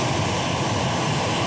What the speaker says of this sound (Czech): Na runway právě dosedá první ze 2 vládních Airbusů.